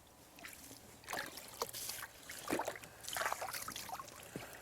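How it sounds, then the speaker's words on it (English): A wooden crate being soaked in a bleach solution, giving soft intermittent sloshes and trickles of liquid with gentle knocks, fairly quiet and close. "Now we're going to soak our wooden crate in the bleach solution."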